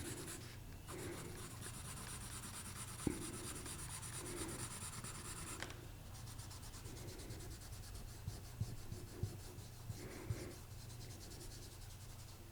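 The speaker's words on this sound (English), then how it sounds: "Gotta bring the eraser through it though." An eraser scrubs back and forth over a charcoal drawing on paper, steady close rubbing strokes with a few soft taps and brief pauses between passes.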